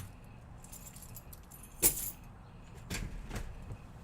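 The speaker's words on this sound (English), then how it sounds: "This is a double bolt. It's a pain in the butt to open." Keys jangle and scrape in a stiff double bolt door lock, with a sharp metallic clack as a bolt turns, followed by softer rattling and fumbling at close range.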